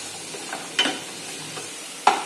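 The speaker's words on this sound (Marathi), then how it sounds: "2 ते 3 मिनिट पूर्णपणे ह्याला परतून घेणार आहोत आपण." Peas sautéed and stirred in a pan for kairi rice, a soft continuous sizzle broken by two sharper, louder spoon scrapes against the pan and a few lighter stirring touches.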